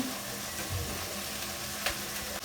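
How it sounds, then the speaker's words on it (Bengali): Fish frying in hot oil in a home kitchen, a steady low sizzle running throughout with a couple of brief brighter crackles, close and fairly quiet with no talking. "তেল গরম দিয়ে তার আমি মাছ দিয়ে দিয়েছি"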